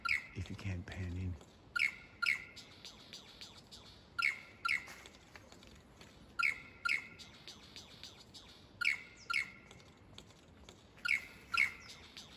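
A lyrebird in the Dandenong Ranges mimics other birds' calls, giving loud, bright chirps and whistled phrases in regular bursts about every two seconds, with a brief low voice or rumble at the start.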